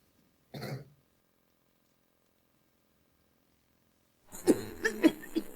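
A single short cough near the start, then silence, followed by a burst of throat-clearing or coughing sounds toward the end, close and fairly loud.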